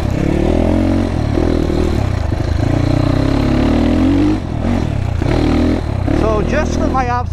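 GPX FSE300R motorcycle engine droning steadily while riding on a track, loud and continuous with shifting pitch, wind and road noise mixed in, and a brief squeaky chirp near the end.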